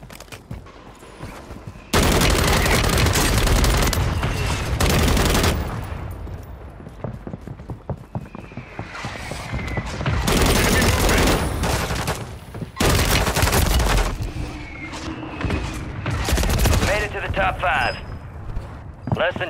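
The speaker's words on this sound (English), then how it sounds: "Mortar strike on the way." Heavy mortar strikes pound a video-game battlefield, several loud booming explosions arriving in bursts with gunfire and rumbling debris between them, close and dominant, while voices talk over parts of the barrage.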